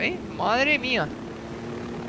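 A helicopter in the video game Ghost Recon whirs steadily in the background while a man exclaims loudly over it, the rotor drone continuing after he stops.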